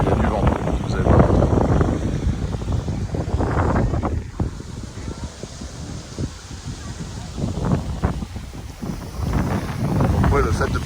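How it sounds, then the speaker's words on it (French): Strong gusty wind buffets the microphone throughout, a loud, rough rumbling that swells and eases in waves. "Il y a du vent, vous allez voir."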